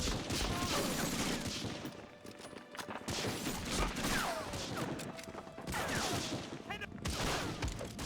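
Gunfire in Medal of Honor: Frontline, a World War II shooter, comes as dense, continuous rattling volleys with sharp cracks layered over one another. The sound is fairly quiet overall and dips briefly partway through.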